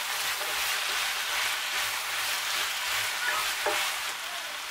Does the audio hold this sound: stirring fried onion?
yes